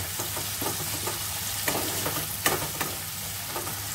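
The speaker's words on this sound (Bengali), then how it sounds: "পেঁয়াজটা খুব ভালোভাবে ভাজা হয়ে যাবে" Onions frying in a pan with salt for a mutton curry give a steady close sizzle with faint stirring scrapes throughout, no voices.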